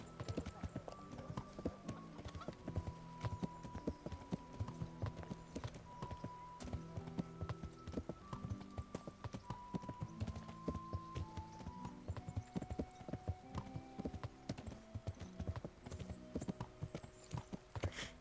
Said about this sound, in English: There's Han's horse.